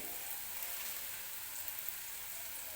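Cabbage added to hot oil with turmeric sizzling in a steady, hissing wash of frying noise, fairly quiet and close, with a few faint crackles and no talking.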